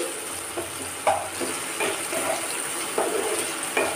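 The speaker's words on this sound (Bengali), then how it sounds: "ঢাকনটা খুলে নিচ্ছি, নিয়ে এবার নাড়াচাড়া করে নিচ্ছি।" A spatula stirs potato, tomato and raw banana curry in a pan, scraping in short, fairly regular strokes over a steady low sizzle and hiss; no one speaks.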